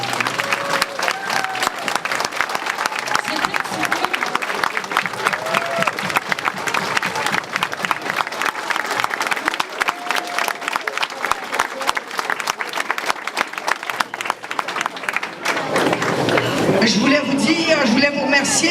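An audience stands and applauds Serge Chrétien at a Vague Humaine 2012 breakfast, dense steady clapping filling the room for about fifteen seconds before it thins and a voice begins speaking near the end.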